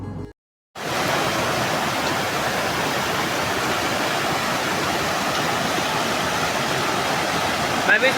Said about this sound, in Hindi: थोड़ी दूर आगे एक काफ़ी शानदार काफ़ी बड़ा झरना दिखाई दिया,